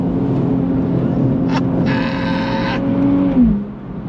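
The engine of a 2024 Nissan Z Nismo on a track drones steadily, then a quick paddle-shift downshift blips the revs as the car brakes hard. Someone talks over the engine.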